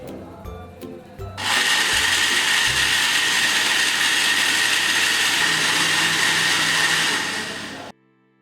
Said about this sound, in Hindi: इस जूस को 5 से 6 मिनट ब्लेंड करें जब तक सब कुछ अच्छे तरीके से मिक्स ना हो जाए।